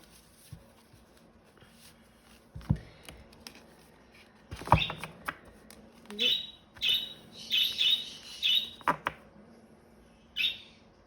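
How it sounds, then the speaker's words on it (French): A pet bird chirps indoors in a series of short, bright repeated calls, with a few scattered taps and soft background noise between bursts. "Désolée hein, pour mon oiseau."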